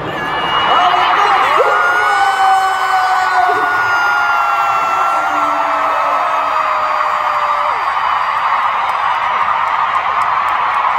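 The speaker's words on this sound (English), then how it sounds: "we should hear your big loud cheer" A large concert crowd at a farewell in Las Vegas cheers and whoops loudly, sustained screams and yells blending into a dense roar that fills the whole stretch.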